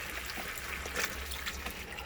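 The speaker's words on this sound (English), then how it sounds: "now I'm going to pour in my chicken stock" Chicken stock is poured into a pot of short ribs, a continuous close liquid trickle and splash that runs steadily with no talk.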